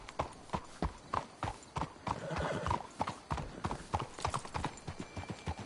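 Horses' hooves clip-clop steadily on the ground in the Red Dead Redemption II video game, a close, rhythmic clatter of many hoofbeats with a brief whinny partway through.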